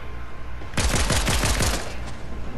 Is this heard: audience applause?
no